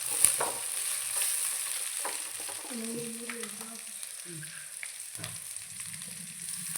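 Curry leaves and green chillies frying in oil, a soft, close crackle with scattered pops and stirring scrapes, fairly quiet and steady.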